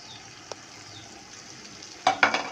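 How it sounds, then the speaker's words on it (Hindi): Spices for aloo gobi roast in a pan, a faint low sizzle broken by a lone tap early on, then a burst of louder stirring scrapes and clatter near the end, with no voices. "अब इसे थोड़ा सा और भून लेंगे"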